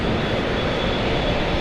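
JetBlue airliner with a plain blue livery and no name at JFK airport, its jet engines giving a steady, loud broadband roar that fills the short span without letup.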